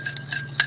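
A spoon clinks against a bowl while mixing a spoonful into warming yogurt starter, with a few light metallic taps near the start, middle and end of a short, quiet moment.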